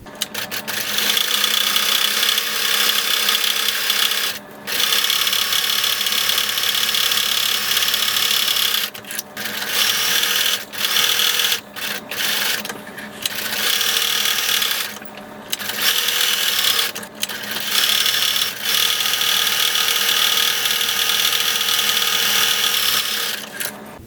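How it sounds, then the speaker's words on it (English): A sewing machine stitches lines into a child's pumpkin costume, running in long loud whirring bursts, each broken by brief pauses, close and steady with no talk. "sew a line that goes from the top of the casing to this edge right here"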